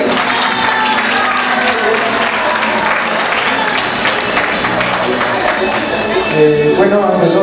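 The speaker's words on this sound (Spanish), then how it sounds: "ahí está Edwin, por favor, un aplauso para él, que se escuche también." Applause from the audience at a 50th birthday celebration, a dense, steady wash of clapping that continues for several seconds with crowd noise and voices mixed in.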